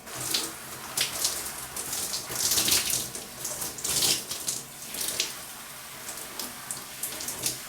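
Running water splashes and gurgles in uneven surges while hair is rinsed after detangling, close and fairly loud, the flow shifting as it hits hair and skin, with no talk.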